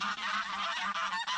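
Geese fighting honk in a quick burst of harsh, overlapping calls, close and fairly loud, over a short moment.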